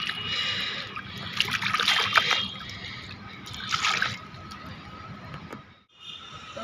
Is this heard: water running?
yes